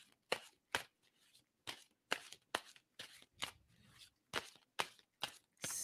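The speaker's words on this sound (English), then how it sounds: "And tell me when to stop shuffling on that." Deck of playing cards being shuffled, with a dozen brisk, soft riffles and snaps in a regular pattern, close and alone in a quiet room.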